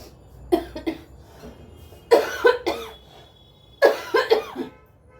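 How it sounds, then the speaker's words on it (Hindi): Three bursts of coughing, each a cluster of two to four harsh, close coughs separated by short pauses. "रात को रेगुलर उठ रही है खांसी"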